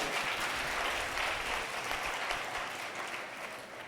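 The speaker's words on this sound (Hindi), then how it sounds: "जोरदार तालियां जवाब" A seminar audience breaks into loud applause, dense continuous clapping from a large group that fades slightly toward the end.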